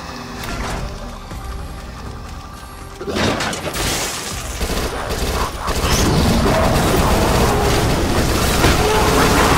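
Submachine-gun fire in the zombie shooter Dead Nation, rapid bursts mixed with explosions, shattering debris and chaotic game effects that grow denser and louder through the stretch, with no talk over it.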